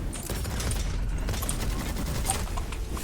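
The updated Midas assault rifle fires in the video game Witchfire: dense, loud, continuous gunfire with overlapping shots and mechanical clatter, carrying on through the whole stretch with no talking.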